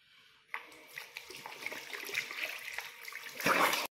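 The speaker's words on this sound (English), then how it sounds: "of course, I'm gonna wash my face first." Running tap water splashing in a sink during face washing, a soft steady trickle and spatter close by that swells louder near the end, with no talking.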